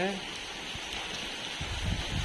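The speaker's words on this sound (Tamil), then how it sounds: "நல்லா மழை பெஞ்சிட்ருக்கு" Heavy rain pours down during Cyclone Ditwah, a steady, dense close-up hiss that fills the whole clip, with a low rumble swelling near the end.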